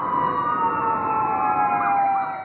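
Loud, close police sirens wail continuously at an Independence Day celebration in Liberty Chowk, several overlapping tones sliding slowly in pitch, with no voices.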